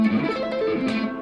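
A distorted electric guitar plays a quick sweep-picked run, notes rising and falling in a fast, continuous ripple at steady volume.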